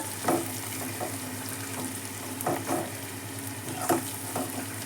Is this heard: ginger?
yes